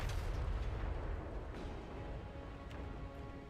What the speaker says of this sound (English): it's just Grand Cannon opening up and feasting on top of these Chaos Warriors